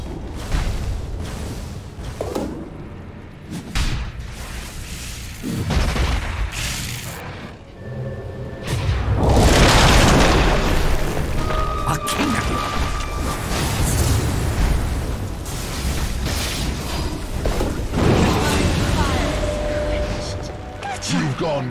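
Dota 2 match sounds during a pro game with a tower under attack: repeated booming spell impacts, bursts and explosive hits dense and loud throughout, with a caster talking over the action.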